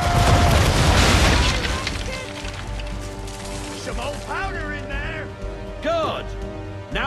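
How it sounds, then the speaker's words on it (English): Ship cannons boom together in a heavy opening broadside aboard a sailing warship in Assassin's Creed III, the blasts rolling away into rumbling battle noise while someone shouts orders over it. "Now, aim all guns at her bow and do as much damage as possible."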